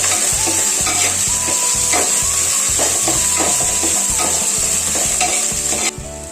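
Crushed ginger and garlic stirred and fried in a pan for homemade beef peralan, loud continuous sizzling with rhythmic scraping strokes of a spoon, close and steady throughout.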